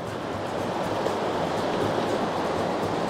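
River water swirls and rushes steadily in an eddy at a pool where fly fishing for trout takes place, a continuous broadband wash heard close and fairly loud with no voices.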